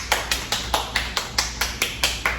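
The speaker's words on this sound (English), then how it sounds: "let's give Adley a round of applause" Crisp, evenly spaced handclaps, about ten in quick rhythm, sound close and fairly quiet in a small room at a braiding academy.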